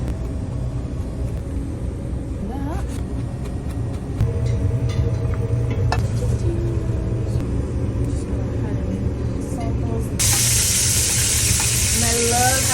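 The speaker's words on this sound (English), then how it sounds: "Love having that nice sizzle, get a nice crust on our shrimp" Shrimp crackle and sizzle in a hot pan with a low rumbling background, the hiss swelling brighter near the end; a voice talks underneath.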